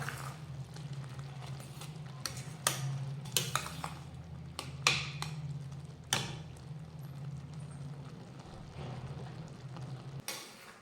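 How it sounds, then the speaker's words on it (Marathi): Melted jaggery being stirred in a pan over a medium flame for gulamba, a mango preserve, with scattered spoon scrapes and clinks against the pan over a steady low hum. "तर हे असं सतत हलवत राहायचं"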